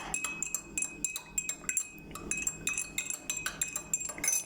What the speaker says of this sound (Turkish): Şimdi birazcık da karıştıralım hemen. Şekerli kaşığımızla.